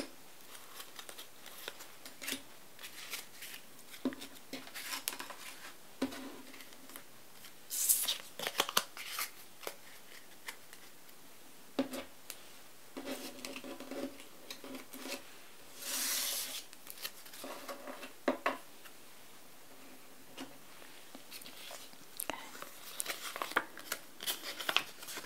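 Board game cards handled and shuffled up close, with soft papery rustles, flicks and crinkles arriving in irregular bursts against a quiet background.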